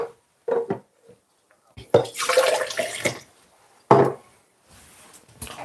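Water from a kitchen tap pours into a drinking glass in short, splashy bursts separated by quiet gaps and small handling noises.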